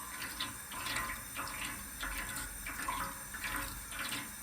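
Water runs steadily into a sink while a dye pot used for blue fibre dyeing is rinsed, a continuous splashing flow with faint clinks and no talking.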